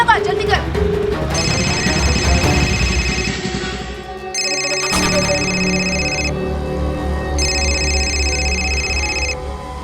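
A telephone rings repeatedly in electronic bursts, with a pause between rings, near and loud, alongside a low background hum.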